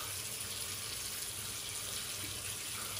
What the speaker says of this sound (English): Let's get the face wet and then we'll get to lathering up.